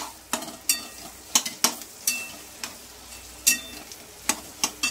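Samosa filling of spiced potato with homemade masala stirred in a pan: a soft sizzle under a series of sharp spoon scrapes and taps against the pan, roughly one every half second, with no talking.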